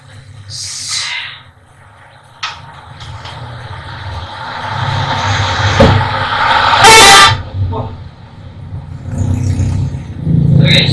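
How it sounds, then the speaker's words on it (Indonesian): A car passes along the roadside and sounds its horn. Traffic noise swells and fades, and a loud, brief honk stands out near the middle of the stretch. "suara mobil."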